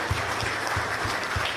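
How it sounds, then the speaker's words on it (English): Crowd applause at a Basketball Champions League 2017/18 award ceremony honouring five players, a steady wash of clapping with a few low thumps, continuous and fairly full throughout. "A big applause, please, to all those 5 players."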